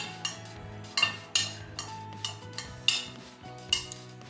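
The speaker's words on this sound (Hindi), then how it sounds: "ये आलू चने हमने अब इनको मिक्स कर देंगे।" Boiled potatoes and chickpeas get mixed in a bowl for gol gappay, a spoon clinking against the dish in a string of separate close taps and scrapes.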